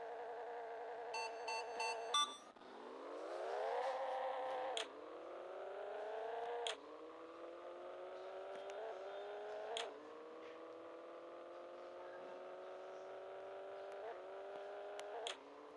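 Synthesized engine whine from a racing car in Pixel Car Racing, rising in pitch with each gear and dropping sharply at every shift, five or six times in a row, steady and unaccompanied by talk.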